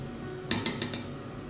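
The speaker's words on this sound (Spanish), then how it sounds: "Mezclamos todo muy bien con una varilla" A whisk clinks against a bowl while mixing lasagna ingredients with salmon and cheese, giving four quick metallic taps over steady background hum.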